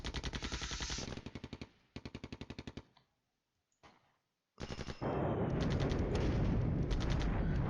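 Artillery and rapid automatic gunfire from the Flashpoint Campaigns: Cold War war game, loud bursts of sharp repeated blasts broken by short silences, then a dense, continuous roar of heavy fire.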